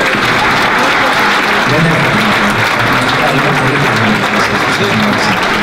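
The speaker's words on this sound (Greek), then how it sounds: "Θέλω λοιπόν το πιο δυνατό σας χειροκρότημα." Loud, dense applause from a crowd at a corporate pie-cutting event held by a frozen seafood company, steady clapping filling the room without a break.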